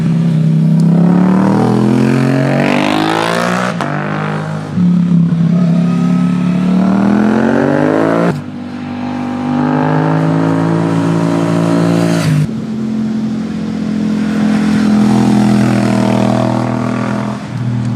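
A Suzuki GSX-8R sports bike, fitted with an Akrapovic exhaust, rises through gears in several loud, close runs, each engine surge climbing in pitch and then cutting back before the next pull.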